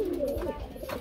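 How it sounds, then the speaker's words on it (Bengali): A pair of lakkha fantail pigeons coos softly at close range, a short low throaty call in a quiet setting. "খুব সুন্দর এক জোড়া লক্ষা বন্ধুরা দেখতে পাচ্ছেন"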